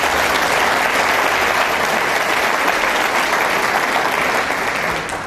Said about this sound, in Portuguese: Quantos podem aplaudir Jesus pela vida dele?